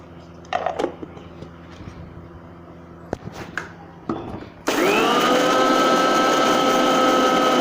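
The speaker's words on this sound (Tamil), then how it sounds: "வறுத்து வரமிளகாயை பொடி பண்ணிக்கிறோம்." A mixer grinder powders roasted dried red chillies, kicking in after a few clatters and taps to a loud, steady high whine that runs to the end.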